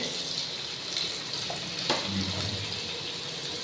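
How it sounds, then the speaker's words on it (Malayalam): Green chilies sizzle in hot oil, a steady broadband frying hiss with a few faint stirring clicks, close and continuous with no talking. "ചൂടായ എണ്ണയിലേക്ക് ആദ്യം പച്ചമുളക് ഇട്ട് കൊടുക്കാം കേട്ടോ"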